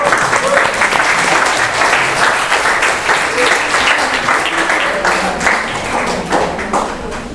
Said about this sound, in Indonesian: kita beri aplaus dulu untuk semuanya